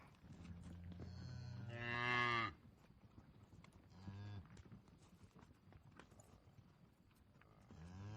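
A cow lets out a loud, drawn-out moo of about a second, followed by a shorter, fainter moo and another starting at the end, with steady background noise throughout.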